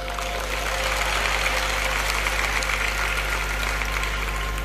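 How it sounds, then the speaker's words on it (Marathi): Audience applause at a Marathi motivational lecture by Sankarshan Karhade, a dense, steady clapping that stays fairly loud and even for the whole stretch with no voices over it. "आत्ता जशा तुम्ही टाळ्या वाजवल्यात ना"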